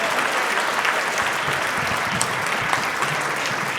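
Audience applause fills a live horror-themed stage show at the Midsummer Scream convention, a steady dense wash of many hands clapping, loud and sustained throughout with no talk on top.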